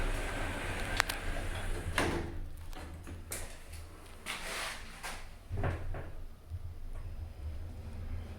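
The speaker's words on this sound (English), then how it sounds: "Doors closing." Large passenger lift in a UK building, its doors sliding shut with a series of soft thumps and rattles over a low steady machinery hum.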